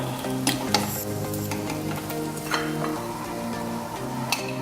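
Bacon sizzles and crackles steadily on a hot plate, a dense, close frying hiss with occasional sharp pops and light ticking, no voices.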